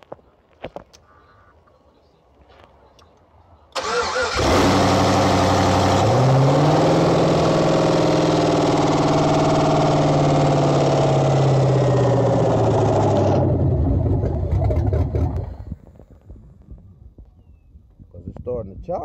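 A cammed 5.3 V8 in a 1989 Chevrolet Caprice cranks and fires for its first startup, roaring loudly with a choppy, lumpy idle for about ten seconds before shutting off, with voices around it.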